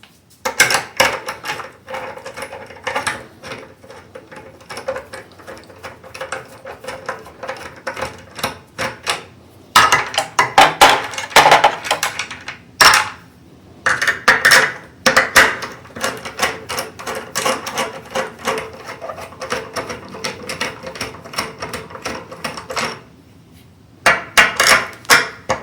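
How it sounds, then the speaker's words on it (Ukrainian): A wrench and a 10 mm socket screwdriver work loose the nuts on a flat Ariston water heater, producing close, irregular metallic clicks, ratcheting and scraping in bursts with short quiet gaps. "будемо зривати гайки таким ключом, а далі такою викруткою, головкою на 10 викручувати їх до кінця"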